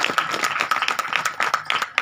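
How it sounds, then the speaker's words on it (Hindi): A church congregation claps loudly and continuously, many hands overlapping in a dense, fairly close burst of applause. "तो जोरदार ताली बजाएं इस बड़ी गवाही के लिए"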